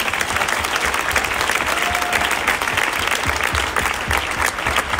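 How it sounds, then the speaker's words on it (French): An audience applauds Anatole with dense, sustained clapping that stays loud and even throughout, with a faint crowd murmur beneath it. "D'abord, on applaudit Anatole."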